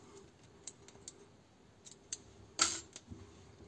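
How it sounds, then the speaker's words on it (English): Scissors snip through crochet yarn close by, with a few light clicks of the blades and one sharper cut near the end, all quiet and without speech. "Now chain 1, cut yarn and leave again 15 cm long,"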